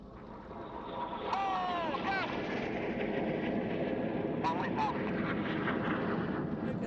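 A fighter aircraft makes a fast pass at the IWM Duxford air show in 2016, its broadband engine roar swelling loud after the first second and holding steady, with a rising whine and crowd noise underneath.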